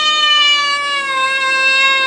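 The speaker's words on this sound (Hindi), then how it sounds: "बिल्लियां मिमियाने लगती," A single long, drawn-out meow holds a steady pitch for about two seconds, close and fairly loud.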